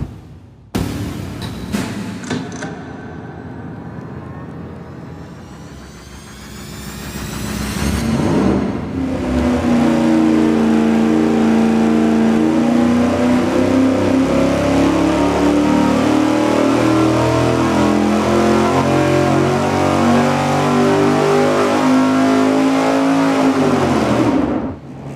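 Carbureted V8 test engine on a dynamometer fitted with carburetor spacers, running alone: a brief start-up and idle, then a hard, loud sustained pull at steady high rpm for about fifteen seconds before cutting off.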